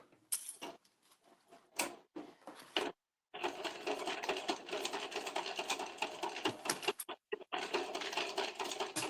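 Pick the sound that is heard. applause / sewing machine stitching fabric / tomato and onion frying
sewing machine stitching fabric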